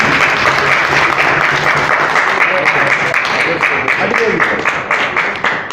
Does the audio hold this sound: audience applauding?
yes